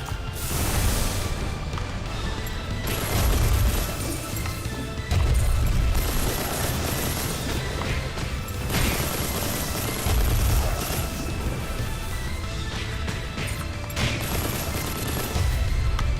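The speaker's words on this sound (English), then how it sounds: "Just keep firing salvos at them." Rapid salvos of weapon fire from a Gundam in the game Mass Builder, dense crackling bursts and booms repeating steadily over the whole stretch, loud and continuous like a barrage.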